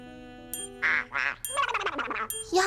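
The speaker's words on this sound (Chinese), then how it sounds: "鸭子。" A duck quacks in several loud, close, nasal bursts, some single and some in quick runs, separated by short pauses, with no talk over them.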